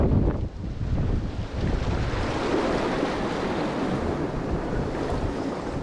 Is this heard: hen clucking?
no